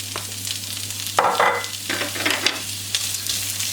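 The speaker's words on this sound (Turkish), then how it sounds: "Bir dakika havuçları öncelikle yüksek ateşte soteleyeceğim, kavuracağım." Loud, close sizzling of carrots stir-frying on high heat, with scraping stir strokes and a steady low hum underneath.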